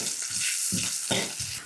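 Fenugreek seeds, green chilli, grated ginger, asafoetida and curry leaves are stirred in a hot pan after the flame is switched off. A brief close run of soft scraping strokes plays over a light sizzle.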